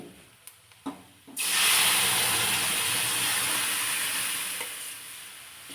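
Red chili powder and homemade masala fry loudly in hot oil for sambar, a steady close sizzle that bursts in abruptly after a few quiet taps and holds to the end.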